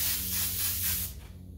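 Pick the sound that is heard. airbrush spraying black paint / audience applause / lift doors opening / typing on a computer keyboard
airbrush spraying black paint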